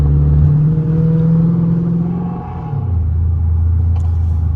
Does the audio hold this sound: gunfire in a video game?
no